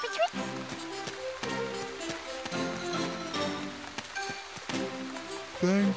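Cartoon rainfall in a children's animated fantasy kingdom, a continuous patter of drops running under characters talking and a short musical sting.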